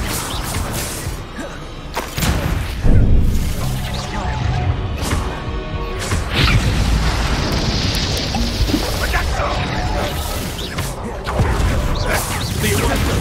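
Spell explosions in the Hogwarts Legacy video game, Bombarda and Confringo blasts going off in a wizard duel: repeated loud booms, crashes and bursts layered with game effects and combat voice lines.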